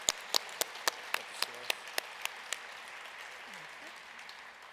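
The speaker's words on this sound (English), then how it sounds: "if we could just have a round of applause for our elected officials" Scattered hand claps for elected officials at the 2015 King County Martin Luther King Jr. celebration: about ten distinct, fairly close claps in a loose rhythm over a couple of seconds, then stopping and leaving only faint room tone.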